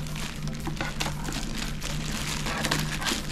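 Scissors cut through the plastic packaging on a Sweet Protection Falconer 2Vi helmet box, giving close, continuous crinkling and rustling bursts of plastic.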